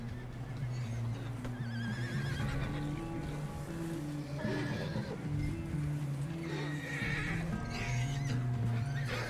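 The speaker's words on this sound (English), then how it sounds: "Oh no, this is my horse." A horse in Red Dead Redemption 2 whinnies and neighs repeatedly over a continuous bed of game music, with a few faint hoof clops, steady and fairly loud throughout.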